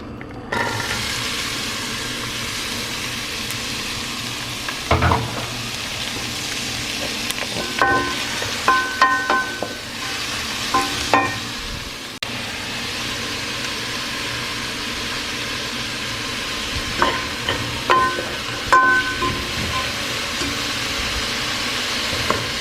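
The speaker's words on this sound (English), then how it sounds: "now we'll just head to the stove top and sweat these vegetables" Vegetables sweat in a pan on a stovetop for stuffing, giving a steady soft sizzle throughout with occasional scrapes and knocks of a utensil stirring them, close by and without talk.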